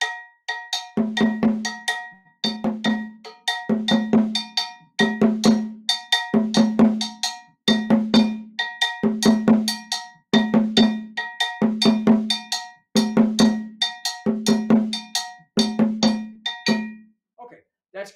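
A metal bell plays only the open strokes of the kidi pattern, bright clanking hits in a repeating short group, cycling steadily and close, alone without talk.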